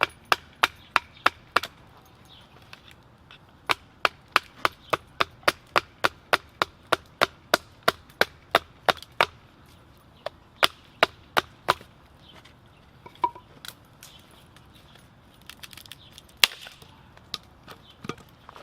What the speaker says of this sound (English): Keep pressure with your left hand that's holding the knife and keep batoning.